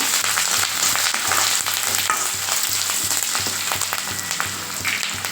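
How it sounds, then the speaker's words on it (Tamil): Steady, crackling sizzle of curry leaves frying in hot oil in a pan, continuous and fairly close, with no voices. "கூடவே ஒரு நாலு கொத்து கருவேப்பிலை போட்டு அதையும் நல்லா வறுத்துக்கோங்க"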